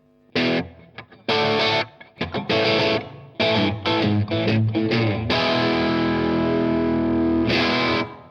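A heavily distorted electric guitar played through a tube amplifier plays loud, crunchy chords and short riffs, ending in a long sustained chord ringing out.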